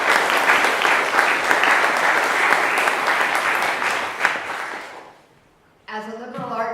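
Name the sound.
applause from audience at journal launch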